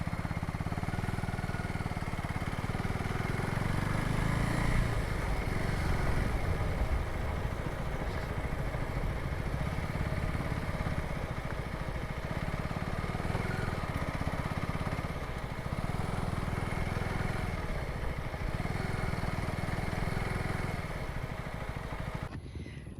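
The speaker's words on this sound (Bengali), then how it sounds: "দুটো বাইক দাঁড় করিয়ে দিচ্ছি" Two motorcycle engines idle steadily and close by for the whole stretch, a low continuous rumble with faint clatter and no talking.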